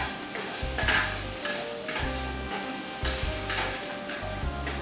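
Curry leaves stirred in a hot frying pan for achari aloo, with steady sizzling and repeated scraping strokes of a spoon across the pan, close and fairly loud, no talking.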